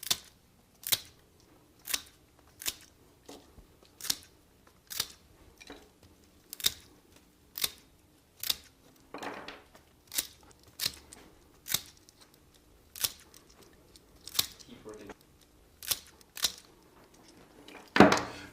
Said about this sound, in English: take our bunch cutters and cut this off evenly